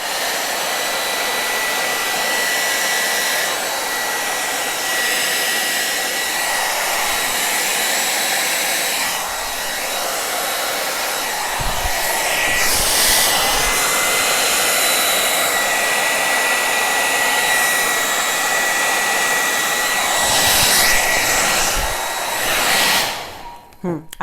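Hair dryer blowing across a wet acrylic Dutch pour painting, a loud steady whooshing roar that runs almost the whole time with slight shifts in tone as it moves, then cuts off abruptly at the end.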